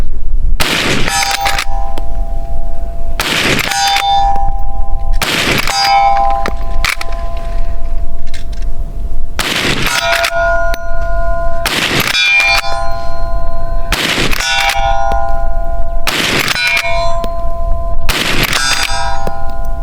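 Ten lever-action rifle shots at steel targets on a 200-yard competition range, each a sharp loud blast followed by a ringing metallic clang, spaced a second or two apart with pauses between groups.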